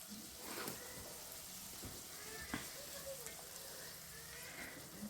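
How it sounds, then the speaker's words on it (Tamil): Onion and tomato sauté in oil with a pinch of salt, giving a soft, continuous sizzle with faint stirring scrapes and occasional crackles, quiet and even throughout. "கொஞ்சமாக உப்பு சேர்த்து இதை நல்லா வதக்கி கொடுத்துடலாம்."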